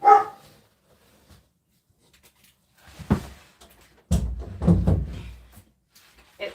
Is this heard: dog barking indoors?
yes